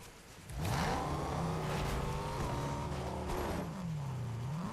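A car engine in Fortnite revs up and holds a droning pitch, shifting up and down as it accelerates, loud and close with no talking.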